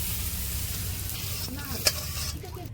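Prawns sizzle in hot oil in a kadai, a steady broadband frying hiss with a sharp pop near the end, heard alone without speech.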